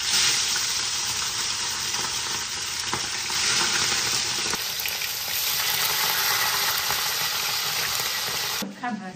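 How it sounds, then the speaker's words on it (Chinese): Hairtail fish fries in a pan with a loud, continuous close sizzle and crackle of hot oil for several seconds, ending with a brief clatter, no talk. "这带鱼用这锅煎一下子"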